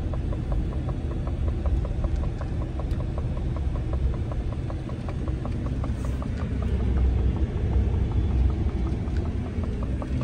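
A car's engine rumbles steadily from inside the cabin on a back road during a test drive, a low continuous drone with faint rhythmic ticking and a slight swell toward the end, no talking.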